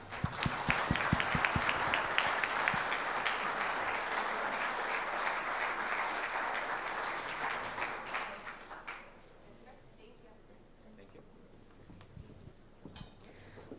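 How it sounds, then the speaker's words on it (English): A chamber of commerce annual dinner crowd claps for its honorees, with dense, sustained applause that fades out about two-thirds of the way through, leaving a quiet room with a few scattered claps. "Can we please have a round of applause for all of our honorees today?"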